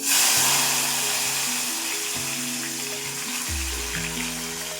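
Tomato pieces go into hot oil with mustard seeds and cumin, giving a loud, close, steady frying hiss that lasts throughout while a low hum runs underneath.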